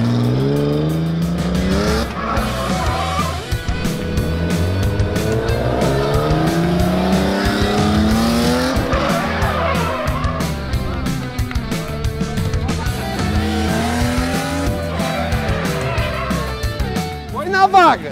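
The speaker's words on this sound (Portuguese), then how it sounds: "vocês puxam o freio de mão e viram pra entrar na vaga" A car drifts through a handbrake turn into a parking space during a driving challenge, its tires squealing and skidding loudly over a revving engine while people talk and react throughout.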